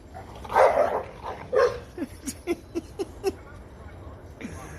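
Several dogs bark in a quick run of short, sharp yips and woofs, fairly close, with a voice calling to them at the start; a poker player's home setting before a cash game session.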